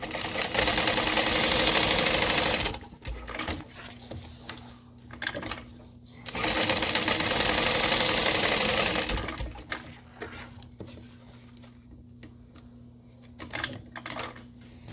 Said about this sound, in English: So like this, and then we're going to top stitch on both sides.